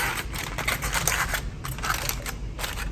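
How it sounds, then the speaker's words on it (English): Aluminum foil is handled and pressed over a cooking pot of Liberian jollof rice, producing close crinkling and crackling bursts in irregular clusters. "So then I'll just put the aluminum foil over it."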